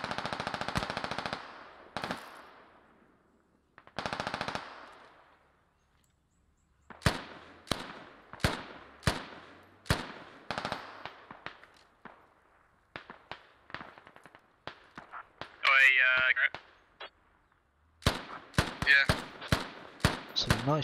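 Gunfire in the tactical shooter game Squad on the Narva map: sharp single shots and short bursts, some close and loud, others distant, coming in irregular clusters with brief pauses between them.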